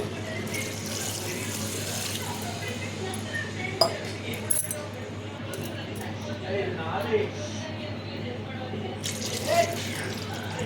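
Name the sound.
water being poured into chicken curry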